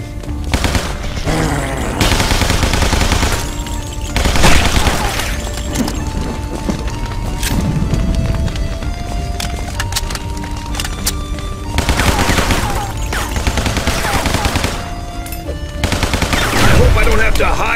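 Rapid automatic gunfire in the Guns, Gore & Cannoli shooter game, loud repeated bursts across the whole stretch with short pauses, mixed with game music and effects.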